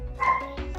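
A pet dog at home gives a single sharp bark, close and fairly loud, with no talking over it.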